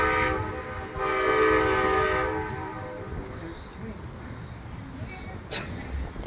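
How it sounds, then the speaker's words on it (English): A train horn blares for a few seconds while the train rumbles past Munn Park in Lakeland during an outdoor event, then the rumble fades to steady background noise. "the trains do run through here"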